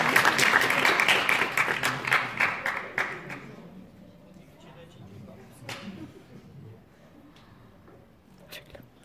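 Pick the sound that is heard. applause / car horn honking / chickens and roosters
applause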